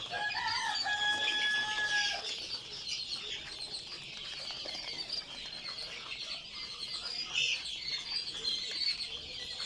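A group of quail chicks calls with high, repeated chirps and whistles, a steady chattering chorus nearby lasting throughout.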